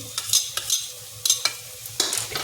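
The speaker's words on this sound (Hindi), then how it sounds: "अब इसमें डाल देंगे लहसुन। लहसुन को थोड़ा सा भून लेंगे।" Garlic being fried with onions in a pan, with intermittent stirring scrapes and bursts of sizzling in short irregular strokes, fairly faint and without voices.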